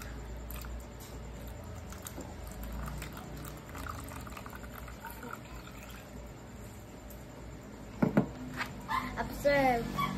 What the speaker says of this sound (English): Carefully pour the water into the second.